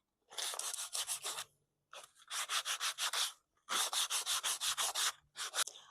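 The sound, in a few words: sanding old varnish off outdoor wood furniture with sandpaper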